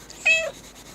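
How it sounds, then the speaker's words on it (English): A pet cat, a loud female, lets out one short, clear meow close by, the single call rising and then falling off quickly against a quiet room. "Because you meow."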